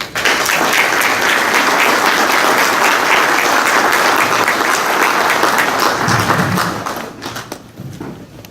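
Audience applause welcoming a speaker at a talk in Iowa: dense, steady clapping from a full room, loud and sustained for about seven seconds before thinning out into a few scattered claps.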